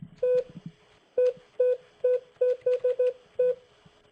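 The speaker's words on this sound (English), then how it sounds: "We'll dial 0 for secondary dial tone," Touch-tone keypad beeps on a phone line into a Cisco CUCM voice system: about nine crisp, even DTMF tones, some spaced apart and others in a quick run, clear and close over a faint line hiss.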